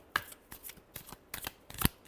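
Tarot cards shuffled by hand in a handful of quick riffled bursts, close and soft with brief crisp flicks and papery slides, no talking.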